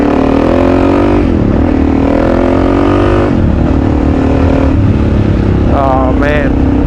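A KTM 500 EXC-F dirt bike with a loud exhaust pipe runs close and loud the whole time. The engine's pitch rises and falls as the rider opens and eases the throttle, ending in a sharp rev.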